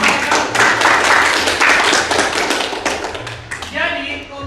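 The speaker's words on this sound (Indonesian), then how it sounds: "Tepuk tangan dulu untuk mereka." A class applauds after a lesson on computer network routing, steady loud clapping from many hands that fills the room for about four seconds before tapering off, with a voice coming in at the end.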